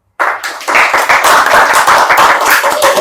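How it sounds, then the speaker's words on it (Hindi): A short, close burst of hand clapping from a few people follows an interview answer, starting abruptly and staying steady and bright for about three seconds. "तालियां"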